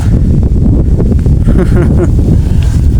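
Strong wind buffets the microphone at a roadside, a loud continuous low roar and rumble that stays steady for the whole stretch, with faint voices mixed in beneath the gusting.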